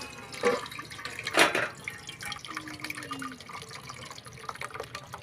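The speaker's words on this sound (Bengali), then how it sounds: "আস্তে আস্তে করে ঢালছি আমি" Chicken curry cooked with potatoes is poured slowly from a pot, giving a few wet splashing, dripping pours with a couple of louder bursts, close and alone.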